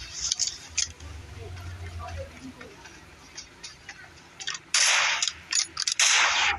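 Gunfire in the PUBG video game, sharp bursts of shots scattered through the clip, with a louder cluster of rapid reports near the end, heard over faint background voices.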